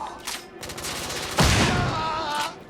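Gunfire from a coach gun in The Order: 1886, a stretch of shots and booms with a louder blast partway through that sustains to the end.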